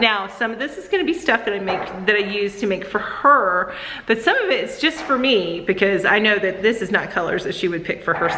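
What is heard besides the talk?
No distinct noise like a dog, phone or traffic.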